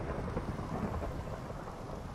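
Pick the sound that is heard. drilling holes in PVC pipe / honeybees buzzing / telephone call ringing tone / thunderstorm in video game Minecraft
thunderstorm in video game Minecraft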